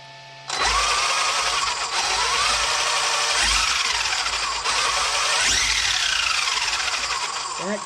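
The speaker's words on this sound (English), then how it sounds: "That gear doesn't sound good." A Traxxas XRT RC truck's electric motor whines up loudly and close with a harsh, grinding drivetrain tone from a bad-sounding gear, pitch swelling and dipping in repeated surges.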